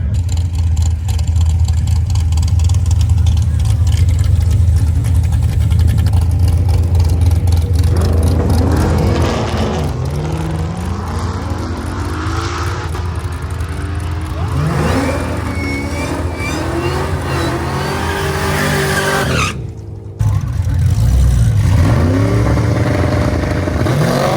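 Drag race car engine at the track, a loud, close rumble idling and then revving repeatedly in rising sweeps, with a brief cut before a final hard rev.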